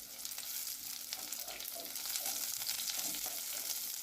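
Garlic and capsicum frying in a pan, a soft continuous sizzle with faint stirring scrapes, quiet and steady, no talking.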